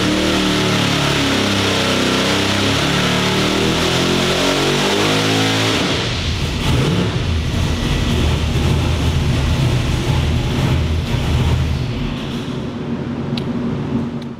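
A boosted car engine with swapped injectors and coils revs through a rising, stepped sweep, then settles into a loud, rough, close running rumble for the rest of the stretch, with no voices over it.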